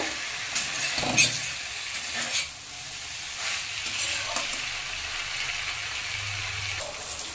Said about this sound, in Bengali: মশলার সাথে লতিটাকেও ভালো করে 2-1 মিনিট কষিয়ে নেব।